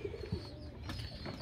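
Pigeons coo close by in a loft, soft low throaty calls repeating over a quiet background with faint rustling.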